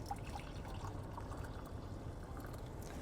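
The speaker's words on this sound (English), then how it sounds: "I'm gonna pour some coffee real quick." Coffee pours into a cup in a quiet indoor space, a faint, steady trickle of liquid with no talking over it.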